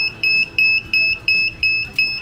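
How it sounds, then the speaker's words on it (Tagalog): A temperature controller alarm sounding after reaching 192 degrees: six evenly spaced, loud, high-pitched electronic beeps in a steady on-off rhythm, close by, with no talking. "Ayun, nag-alarm siya."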